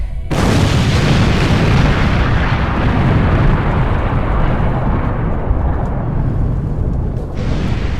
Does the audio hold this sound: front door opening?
no